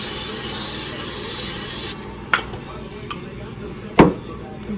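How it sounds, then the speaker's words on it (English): Cooking spray hisses from an aerosol can onto a small baking pan for an air fryer cake: one steady, loud hiss for about two seconds that cuts off, followed by a couple of light knocks. "So let's spray this pan."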